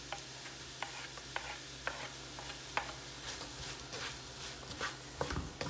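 Onions fry in a pan for Haitian-style fried rice, giving a steady close sizzle with repeated scraping stir strokes and small crackles throughout.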